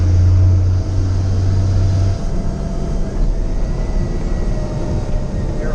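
Pacbrake PXRB exhaust brake on a CAT 3116 truck engine, a steady loud low droning roar descending a grade, with a tonal engine note that drops away partway through as the brake releases.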